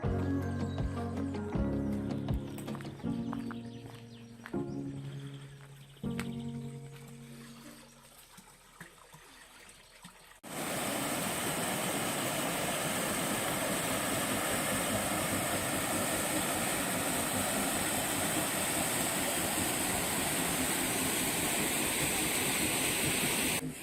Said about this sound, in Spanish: Eso tiene unas caídas de agua bastante llamativas